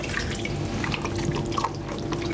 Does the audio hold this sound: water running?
yes